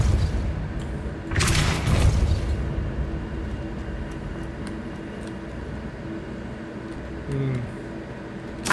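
A Depulso spell in the Hogwarts Legacy video game blasts off as a loud, booming burst with a rumbling tail, followed by lower, steadier game ambience with scattered smaller impacts.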